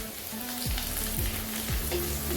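Curry leaves sautéing in hot oil in a pan for an Andhra-style chicken fry, giving a steady close sizzle with a low hum running underneath and no voices.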